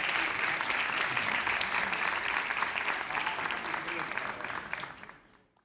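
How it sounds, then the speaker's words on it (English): Sustained audience applause fills a London singing-competition semifinal, dense and steady for several seconds before tapering away at the end. "Round of applause"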